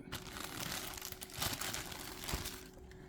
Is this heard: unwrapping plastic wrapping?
yes